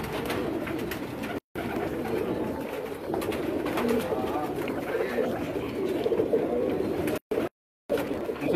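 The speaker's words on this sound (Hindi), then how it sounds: "कबूतर बहुत ज़्यादा हैं, देख देख के आप थक जाएंगे" Flocks of pigeons on a Karachi rooftop coo steadily in a soft, continuous burbling murmur that rises and falls, with people talking in the background and a few brief dropouts.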